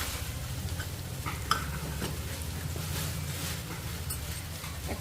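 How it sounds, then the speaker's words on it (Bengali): Onion and green chili paste with bay leaf and cinnamon being sautéed in a pan, a steady low sizzle with occasional scrapes and taps of a stirring spoon, continuous and without speech. "ভালো করে এটাকে কষিয়ে নিতে হবে।"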